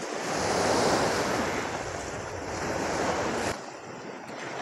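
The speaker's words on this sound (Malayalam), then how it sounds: "ഇപ്പം നല്ല തിരയായി." Sea waves roll in and break near a fishing shore, a steady broad wash of surf that swells and eases, mixed with wind noise and no voices.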